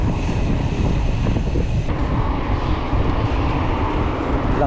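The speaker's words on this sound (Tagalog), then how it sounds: "Lakas ng hangin." Strong headwind buffets the microphone of a cyclist riding along the Obhur waterfront, a steady loud roar of gusting wind with low rumble throughout, no voices.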